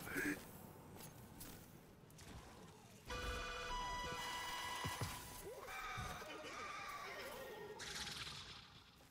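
Game horse in Destiny 2 whinnying amid combat noise, a loud harmonic neigh near the middle with clattering effects and synth tones around it, and someone talking at times.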